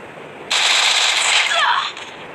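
Automatic gunfire in a ranked online shooter game, a loud rapid burst of shots lasting well over a second, close and harsh, then cutting out with a faint tail.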